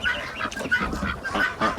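Geese honking on a farm as they are moved toward water alongside ducks: repeated nasal honks in quick succession, close and fairly loud, with no talking.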